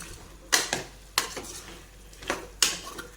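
A spoon scrapes and clanks against a pan in a few sharp, separate strokes while stirring potatoes into spices, with quiet pauses between them and a faint sizzle underneath.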